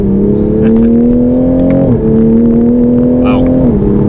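A stock Toyota Supra accelerating at part throttle from inside the cabin, its steady engine note climbing in pitch, dropping briefly at two gear shifts, and climbing again.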